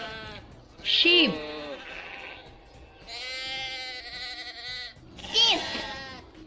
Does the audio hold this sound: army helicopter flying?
no